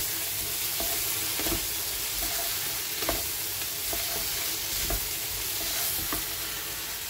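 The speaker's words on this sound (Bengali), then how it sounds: "আলুটাকে কষিয়ে নেব সুন্দর করে।" Potatoes sauté with turmeric and cumin paste in a hot pan, a steady loud sizzle running throughout, broken by regular soft scrapes of a spoon stirring every second or so.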